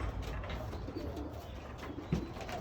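Racing pigeons cooing around a loft, soft throaty coos blending into a steady murmur of birds settling outside, with a couple of slightly louder calls over the low background.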